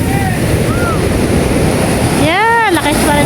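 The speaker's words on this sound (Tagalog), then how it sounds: "Lakas pa rin ng alon." Strong sea waves surge and crash around a small outrigger boat, a loud continuous roar of surf with wind buffeting the microphone, while voices call out over it.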